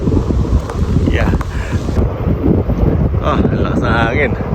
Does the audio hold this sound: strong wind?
yes